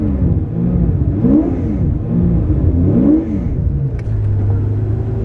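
A V12 twin-turbo widebody Toyota Supra revs hard during donuts, its engine pitch sweeping up and down in repeated surges, loud and close, then settling into a steady drone at the end.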